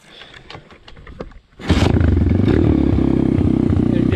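A 125 or 150 cc dirt bike engine catches and settles into a loud, steady, close-up running drone after about a second and a half of quieter clattering and handling noises.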